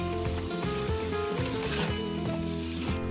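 Jackfruit curry with tomato being stirred in a pan, a close continuous sizzle with scraping and rubbing strokes, alone with no talk.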